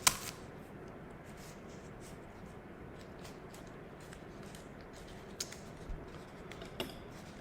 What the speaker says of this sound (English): So what I'll do is wrap it around my two legs and then start taping